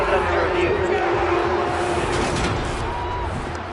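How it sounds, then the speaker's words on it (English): A stadium crowd in Madden 23 roars and shouts as a football replay plays, a broad, loud wash of cheering that stays steady and tapers slightly toward the end. "Shouts from this crowd as they watch the replay"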